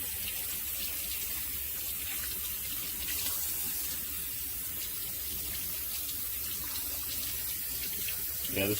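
Water runs steadily from a kitchen tap as raw ribs are rinsed, a continuous close splashing hiss that holds evenly throughout.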